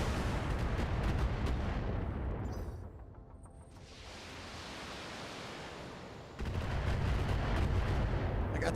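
Heavy weapon fire from battle mechs in the BattleTech video game, sounding as loud, sustained booming blasts with a rumbling, noisy wash that dips briefly in the middle before surging back at full force.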